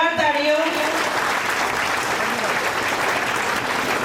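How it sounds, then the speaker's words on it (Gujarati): Loud, sustained applause fills a katha gathering, a crowd clapping steadily for the donors for several seconds, with a voice speaking briefly at the start. "એમના માટે જોરદાર તાળીઓ"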